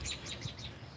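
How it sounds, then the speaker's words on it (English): Birds chirping and calling in a backyard while guarding a nest, a steady stream of faint, busy high-pitched tweets from some distance with no talking. "Gangster birds took over my backyard."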